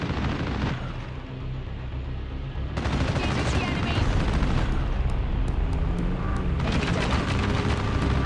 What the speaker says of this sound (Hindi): मस्त की फायरिंग की आवाज़ आ गई